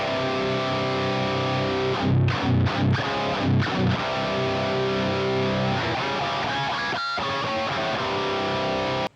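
Isolated heavy death metal guitar track run through a Marty Friedman signature Sansamp pedal, thick distorted riffing with choppy palm-muted stops near the start and a sustained crunching tone afterward, loud and alone.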